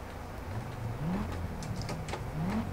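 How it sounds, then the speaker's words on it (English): A 5-cylinder car engine in the Project CARS racing game revs up and down in rising pitch sweeps, fairly quiet and steady, with no talking. "Oh, do you hear that right now? That is beautiful. 5-cylinder goodness right here."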